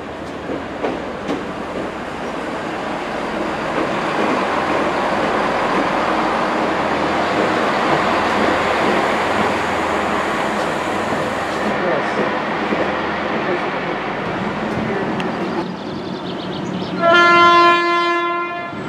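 An electric train passes through Didcot Parkway station with a steady, loud roar of wheels and rail noise. Near the end a short horn blast sounds, and faint voices come through under the train.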